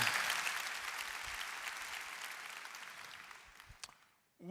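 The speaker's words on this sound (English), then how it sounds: "let's give her another round of applause" Applause from a conference audience, a dense, fairly loud wash of clapping that fades steadily over several seconds, then breaks off into brief quiet before a voice begins at the end.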